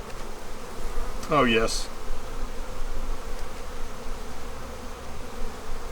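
Honeybees buzz steadily around a hive readied for winter, a dense close drone throughout, with a brief voice speaking over it.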